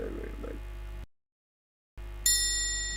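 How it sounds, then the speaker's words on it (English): A single bright bell ding rings out after a moment of silence and lingers with a clear metallic tone, alone, marking the close. "Oh, I gotta ring the bell."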